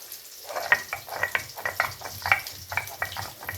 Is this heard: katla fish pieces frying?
yes